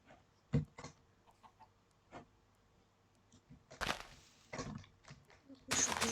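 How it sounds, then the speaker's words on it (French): Chicken clucking in a survival video game, short squawky calls and bursts scattered among other game sounds, with a louder flurry near the end. "Un poulet."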